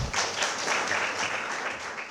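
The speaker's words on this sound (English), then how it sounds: "I request all of you to welcome Sundar sir with a big round of applause." An audience applauds steadily to welcome a guest speaker at a summer course talk on culture and civilization, sustained dense clapping with no voices over it.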